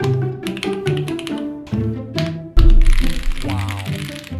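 Keys clack on a custom-built mechanical keyboard fitted with upgraded switches, giving a brisk run of close, crisp taps and thocky presses in uneven bursts, followed by a louder rustling clatter toward the end.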